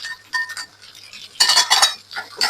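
A spoon stirs onions in oil in a pan while radish curry is cooked, with repeated scraping strokes and light metallic clinks against the pan, close and fairly loud.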